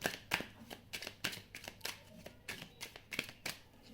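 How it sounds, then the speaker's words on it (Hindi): Tarot cards being drawn and handled from a deck, giving a run of soft, crisp card slaps and shuffles at an uneven rhythm, close by and fairly quiet, with no one talking. "एक कार्ड और निकालती हूँ।"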